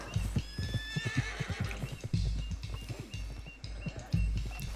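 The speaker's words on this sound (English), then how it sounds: "Calm down, horse." Horses in the video game Red Dead Redemption 2 whinny and neigh amid rapid clip-clop of hooves, the calls rising over a busy rhythm of footfalls at moderate distance.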